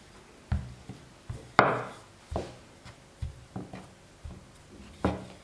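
A rolling pin works flatbread dough for homemade layered scallion-style pancakes, giving a series of close, dull wooden knocks and thumps at uneven intervals, with quiet rubbing between them.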